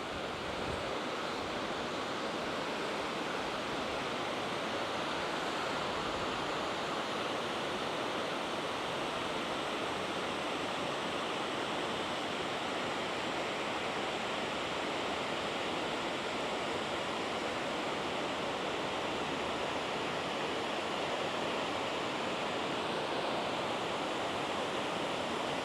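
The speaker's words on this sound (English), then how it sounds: "This creek, by the way, is what flows into Lake Delton." A creek in a closed-off wooded area of Wisconsin Dells flows toward Lake Delton, making a steady, unbroken rush of water that stays even and fairly close throughout, with no voices.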